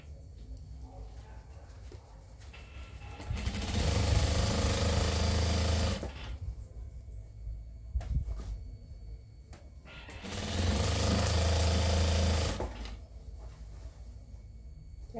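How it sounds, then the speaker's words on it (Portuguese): Sewing machine stitching strips of micro-percale and percale fabric scraps for a quilt, two loud close bursts of rapid whirring about two seconds long each, separated by quieter handling sounds. "Tô pregando aqui as tiras, ó."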